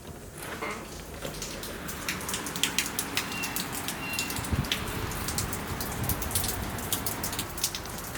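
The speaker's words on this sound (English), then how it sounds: "especially if you visit in the spring, chances are you'll run into rain. And a lot of it." Heavy spring rain in Louisiana pours down steadily, with sharp nearby drips and splatters standing out over a dense, even hiss of falling water.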